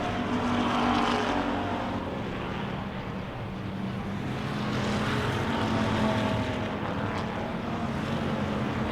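Wissota Pure Stock race cars roar side by side down the back straightaway at a dirt oval, a steady, fairly distant engine drone that swells and fades slightly with no voices.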